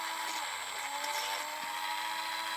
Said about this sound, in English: We're just going to drill the buffer beam.